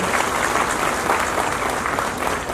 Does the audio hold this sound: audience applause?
yes